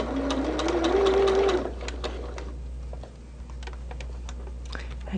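A sewing machine stitches a Christmas tree car quilt block, its fast steady motor hum and needle clatter loud for about a second and a half before stopping, followed by quieter ticks and handling clicks.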